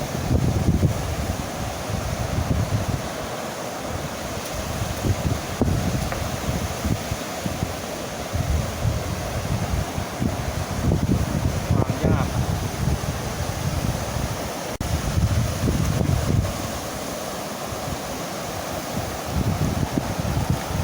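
Strong wind gusting at an open-air fishing spot in the early evening, a steady loud roar with bursts of buffeting across the microphone and a low watery wash beneath, no voices.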